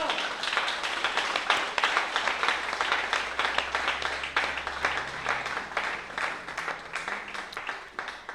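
A church congregation claps, a rhythmic, fairly close burst of hand claps that continues for several seconds and gradually fades, with a low sustained tone underneath.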